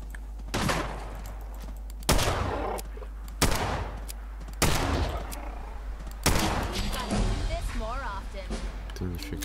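Gunfire in the video game Fallout 4, with several loud, separate shots spaced about a second or more apart, each followed by a brief tail. Someone talks over and between the shots.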